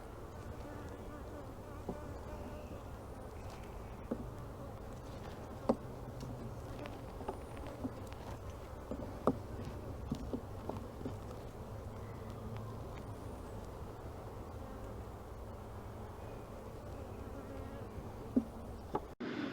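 Honeybees buzzing in an opened, queenless hive, a steady close drone of many insects continuing throughout with faint clicks and handling noises.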